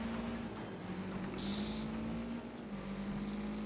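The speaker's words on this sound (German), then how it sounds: "Ich geb hart Gas." Car engine in the Wreckfest racing game pulling hard under heavy throttle, a steady droning hum holding a fairly constant pitch with a brief brighter hiss midway, loud and continuous with no talk.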